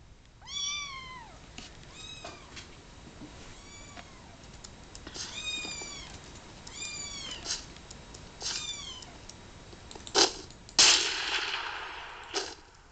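Pet cats meowing repeatedly and close by, a series of rising and falling meows spread through the clip, with a few sharp clicks and bumps near the end.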